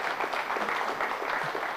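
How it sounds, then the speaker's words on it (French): Conference audience applauding a speaker after a talk on solar space probes, a dense, even patter of many hands clapping at moderate distance, steady throughout without a break. "On va applaudir Milan."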